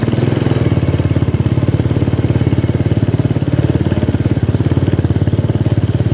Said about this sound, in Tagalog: Hindi ko lang papatayin yung makina ng motor ko kasi sisilipin lang naman natin dito.